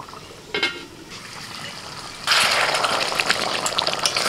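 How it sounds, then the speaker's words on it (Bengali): Water pours into a pan of coriander chicken curry, a faint splash first, then a strong, continuous gushing flow close by for the last two seconds, with no talking. "আমি একটু গ্রেভি করার জন্য জলটা দিচ্ছি।"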